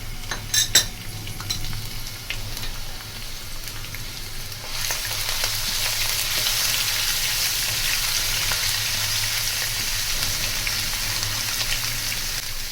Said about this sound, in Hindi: 1 कप घी ले लिया, घी गर्म हो चुका है। 3 खाने के चम्मच लहसुन अदरक पेस्ट ले लिए, इसको हल्का ब्राउन करेंगे।